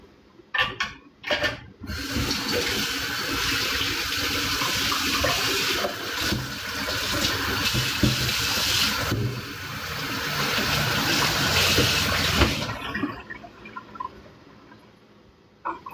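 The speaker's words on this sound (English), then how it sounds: "I don't see any reason why I can't just rinse the cutting board right now" A knife and cutting board rinsed under a running kitchen tap, a steady close rush of water for about ten seconds, bracketed by a few clunks and handling sounds before and after.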